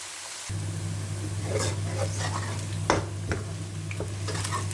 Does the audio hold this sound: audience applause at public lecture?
no